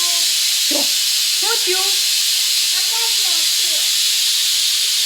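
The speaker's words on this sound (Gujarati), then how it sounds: "કુકરમાં સીટી થઈ ને?" A pressure cooker on an induction cooktop whistles, letting out a loud, continuous rushing hiss of steam that fills the whole stretch while people talk over it.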